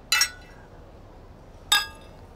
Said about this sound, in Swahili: Hebu tugonge cheers kidogo.